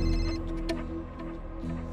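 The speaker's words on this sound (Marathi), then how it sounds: "म्हात्रे साहेबांचा फोन आहे" A telephone ringing indoors in a household scene, a clear tonal ring with a short repeated trill, moderately loud and alone.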